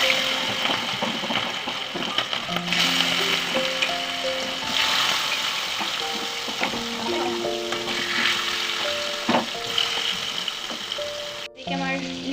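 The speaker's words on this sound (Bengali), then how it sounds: "আমার ইলিশ মাছ ভাজা চলছে" Hilsa fish fry in a pan with a continuous soft sizzle and crackle, partly masked by background music over the whole stretch.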